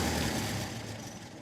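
A classic car's engine revs up, rising from a deep low rumble into a steady throttle roar that fades slightly over a second and a half, close and loud with no talk.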